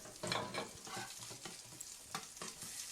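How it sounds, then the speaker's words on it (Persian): Steady sizzling of eggplant frying in a covered pan, with occasional soft clinks and stirring noises, close by and fairly quiet. "با قاشق پر میکنیم و سرپوشش رو میگذاریم تا کمی سرخ شود"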